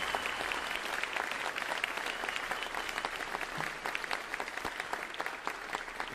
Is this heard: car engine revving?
no